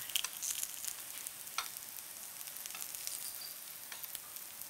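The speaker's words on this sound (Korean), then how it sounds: "노릇노릇하게 지져줍니다. 그래야 들기름이 이 육질 안에 쏙 들어가죠." Burdock root pan-frying in perilla oil, a faint, steady sizzle with occasional soft crackles and light stirring scrapes.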